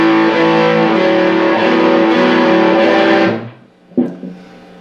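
Distorted electric guitar riff, played loud and steady with ringing chords for about three seconds, then cut off, followed by one short struck chord that quickly fades.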